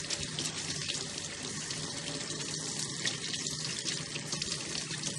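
Tap water runs steadily and close by, rinsing a plastic part from a DrinkWell pet fountain under the faucet, a constant dense hiss and splatter with no talking.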